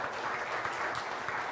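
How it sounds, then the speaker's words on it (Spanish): Congregation applauding during an Easter Sunday church service, a dense steady patter of many hands clapping throughout, with no voices over it. "Pueden darle un aplauso a Jesús si quiere por todo esto que Él hace por nosotros."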